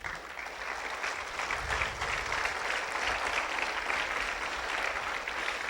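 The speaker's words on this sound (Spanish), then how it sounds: "Vamos a darle palmas a Jesús." A church congregation claps hands in praise, a steady dense wash of applause holding evenly for several seconds with no voices standing out.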